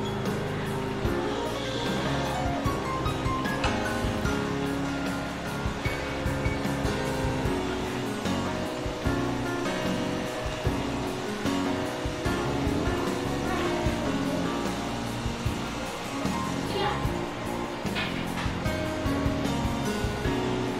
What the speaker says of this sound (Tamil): இப்போ இதை எடுத்து பொரிச்சிக்கலாம்